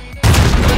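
An MP7 submachine gun fires in a video game, a sudden loud burst that starts abruptly and continues as rapid, dense automatic shots with no talk.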